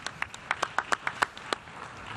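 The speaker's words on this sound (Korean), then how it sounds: "지금 박수를 받으면서" Scattered, fairly faint hand claps from delegates in the UN General Assembly hall at its 70th session as a president walks to the podium; about ten separate claps in an uneven rhythm, with no steady ovation.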